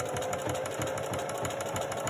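A sewing machine runs steadily while stitching a farmhouse-style jelly roll rug from fabric strips, a continuous close mechanical whir with a fast, even rhythmic chatter that holds at constant volume throughout.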